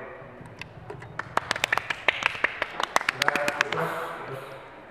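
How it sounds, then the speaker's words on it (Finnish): A small group at an association meeting claps for Toni, a scattered patter of individual handclaps that builds and then fades, with a voice talking faintly underneath. "Ja aplodit Tonille."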